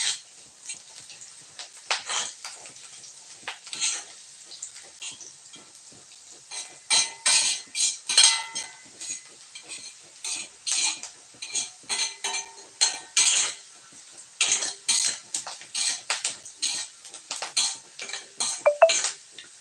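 Onions frying in oil are stirred in an iron kadai during seasoning, giving a steady run of close metallic scrapes and clinks in uneven bursts over a faint sizzle, with no talking.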